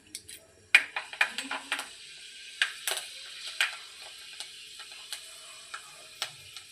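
Fenugreek seeds drop into a hot pan for fish curry and pop in sharp, scattered ticks and crackles, close and fairly quiet, spaced irregularly over a near-silent background.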